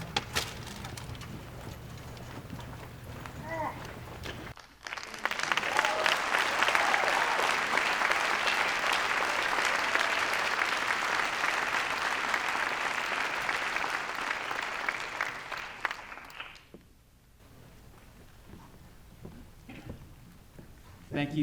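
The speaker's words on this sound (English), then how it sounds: "Once again, a big round of applause for our 3 fifth graders" Sustained audience applause for three fifth-grade students at a Bay Area Day of Remembrance event, a loud, dense burst of clapping lasting about twelve seconds before fading, with a few voices heard before and after.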